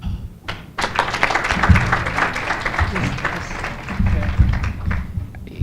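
Light hand clapping from a conference audience at a research commercialisation summit, a moderate, uneven patter of claps with some thumps from a nearby microphone, steady for several seconds.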